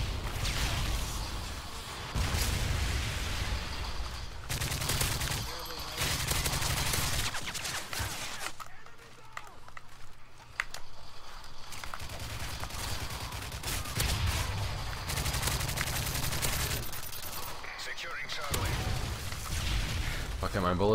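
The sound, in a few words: gunfire in a shooter video game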